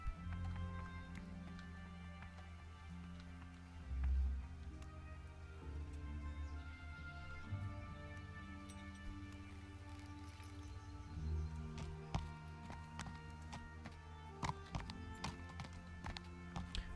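Horse hooves clip-clop at a steady riding pace in the medieval video game Kingdom Come: Deliverance, moderately close over a busy game soundscape, with a few heavier low thuds along the way.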